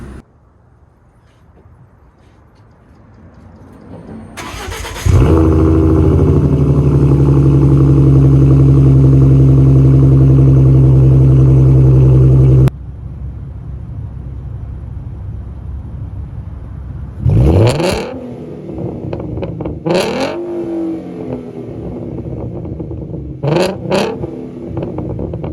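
A V6 Mustang fitted with shorty headers fires up and holds a loud droning rev for several seconds, then cuts back to a rough idle punctuated by sharp throttle blips, close by.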